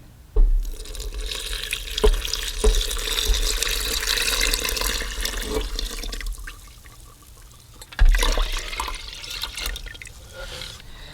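Pandan water pours into a bowl of dry ingredients in two splashing bursts, a sustained trickling stream that stops, then resumes briefly, close by.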